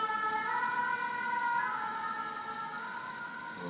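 Ambulance siren wailing outside, a steady tonal siren that holds loud and then slowly fades a little as it passes, with no talk over it.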